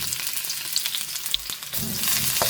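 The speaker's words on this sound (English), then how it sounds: "In a kadai, take 2 tablespoons of oil. Add 1 medium sized onion slice." Sliced onion frying in hot oil in a kadai, a continuous crackling sizzle with scattered pops that swells louder toward the end, no voices.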